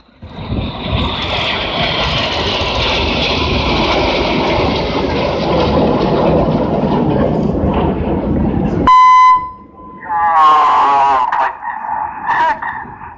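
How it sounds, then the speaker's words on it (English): Red Arrows jet engine roar at an airshow fills the first part, then cuts to a loud, steady electronic beep from a cockpit tone button, followed by garbled radio voice chatter. "it is in fact Red 1 pressing a tone button in his cockpit"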